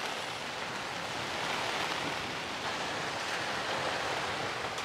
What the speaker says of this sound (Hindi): ये देखिए बारिश आ गई